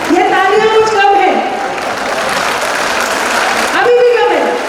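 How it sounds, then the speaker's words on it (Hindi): Audience clapping at a Hindi poetry evening rises under a loud voice calling out to the crowd. Talk is heard at the start and again near the end, with steady applause between. "अब दोनों मिलकर जरा ताली बजाइए।"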